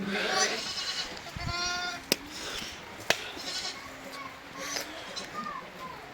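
Sheep on a farm bleat in a few drawn-out, wavering calls, near and fairly clear, with people talking around them and sharp knocks breaking in now and then.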